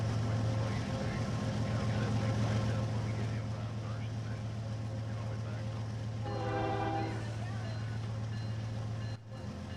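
Simulated train in the Trainz game, a CN ES44 locomotive on a CSX line, rumbling with a steady low engine drone throughout, plus a brief rhythmic horn-like tone near the end before the sound cuts.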